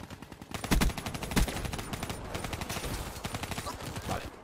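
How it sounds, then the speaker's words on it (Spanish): Suppressed weapons fire in a Black Ops 3 multiplayer match on PS4, heard as rapid, clipped bursts of muffled shots. Two heavier thumps stand out amid a dense, steady stream of shooting. "Escucho un silenciador."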